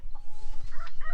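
Chickens clucking inside a backyard coop, a few short close squawks and clucks tumbling over one another in quick succession.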